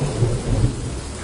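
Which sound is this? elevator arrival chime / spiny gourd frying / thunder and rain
thunder and rain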